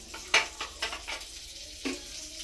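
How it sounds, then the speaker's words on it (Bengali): Butter-coated paneer kebabs going into a hot frying pan: a close sizzle with a few soft clinks and stirring scrapes, short and moderately loud with no talking. "এখন ওই ফ্রাই প্যানে দিয়ে দিতে হবে"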